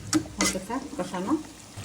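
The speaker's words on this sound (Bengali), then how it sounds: "দিয়ে দেবো আলুটা একসাথে কষিয়ে নিই।" Potatoes and chicken gizzard sizzle softly while being stirred and sautéed in a pan, a faint frying hiss with scraping stir strokes heard under someone speaking close by.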